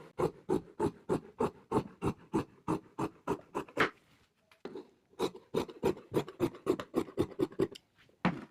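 Scissors snip through pillow cover fabric in a steady series of short, close cuts, pausing briefly midway before the crisp rhythmic snipping resumes, with no one talking.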